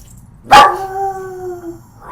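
A single dog howls close by, a sudden loud onset sliding into a long wavering tone that fades out after about a second.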